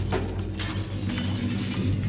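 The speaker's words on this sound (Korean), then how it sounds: "거울을 깨야 한다고요?" A mirror shattering in the horror puzzle game Little Nightmares, a loud, close crash of breaking glass with scattered tinkling fragments that carry on for about two seconds.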